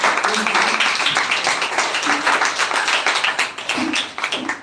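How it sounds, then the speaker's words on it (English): A crowd clapping in steady applause, close and fairly loud, with voices mixed in. "please welcome him with a huge round of clap"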